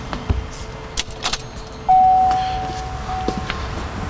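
A car key is turned in the ignition while working on the wiring of a gasoline vehicle, giving a few short metallic clicks and a key jingle, then a steady electronic chime or tone as power comes on, heard close up.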